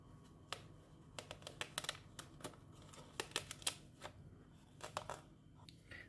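Gallium-embrittled metal crushed and torn by hand, a quiet run of sharp crackling snaps and crinkles in uneven bursts, close and alone.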